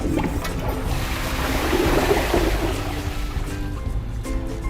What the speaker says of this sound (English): And then we'll flush both of them and see how they go.